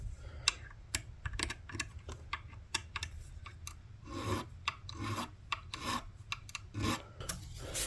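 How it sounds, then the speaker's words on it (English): A safe edge file rasps across the sharp fret edges of a Les Paul copy guitar, a close series of short, quick strokes in an uneven rhythm. "I start by using my safe edge file to start rounding off some of these sharp edges."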